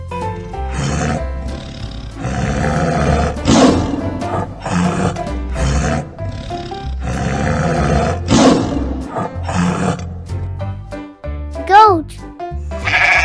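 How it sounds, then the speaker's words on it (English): A tiger roars loudly and repeatedly over bouncy children's background music, with a voice speaking among the roars. "tiger"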